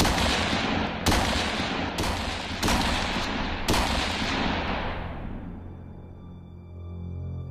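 Five loud, evenly spaced gunshots from a rifle in a horror story scene, each with a long echoing tail, the last one decaying slowly into a low rumble.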